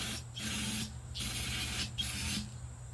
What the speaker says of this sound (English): I'm going to be spraying this gas tank out.